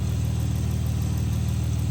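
A semi truck's diesel engine idles on a farm with the hood open, a loud, close, steady low rumble with an even throb and no variation.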